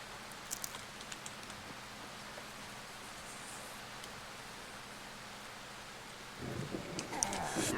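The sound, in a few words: rain falling in the video game Darkwood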